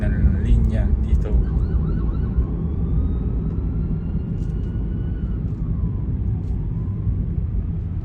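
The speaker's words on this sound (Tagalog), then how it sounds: "Narinig nyo ba yung sirena?" An emergency vehicle siren wails outside, rising and falling in a faint wavering tone over a loud steady background of traffic-like rumble, with a brief chirpy sound at the start.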